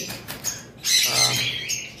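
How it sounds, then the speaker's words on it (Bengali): A pair of Fischer's lovebirds squawks nearby, with scattered sharp chirps giving way to a loud burst of harsh, rasping squawks that trails off into lighter calls. "আর এখানে এক পেয়ার লাভবার্ড রয়েছে"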